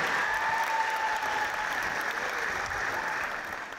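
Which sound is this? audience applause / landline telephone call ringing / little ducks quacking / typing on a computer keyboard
audience applause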